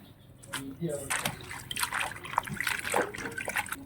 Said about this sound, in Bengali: এইবার শাকটা ধুয়ে নেই